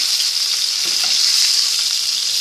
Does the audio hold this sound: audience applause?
no